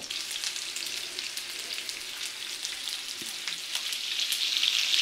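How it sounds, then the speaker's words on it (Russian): Oxtail sizzling and crackling in hot oil, a steady close hiss with scattered pops that grows slightly louder toward the end. "А пока у нас жарится хвост"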